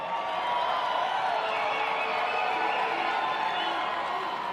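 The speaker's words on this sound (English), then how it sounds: "Hopefully you can hear that applause." Crowd applause and cheering fill a ballroom at the Commander-In-Chief Ball, a steady dense wash from many hands with scattered whoops, continuous and fairly loud throughout.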